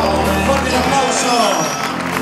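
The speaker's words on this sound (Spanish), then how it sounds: "¡Fuerte el aplauso!" An audience at a shop employees' party claps loudly and steadily after a princess winner is announced, with cheers and voices mixed into the applause.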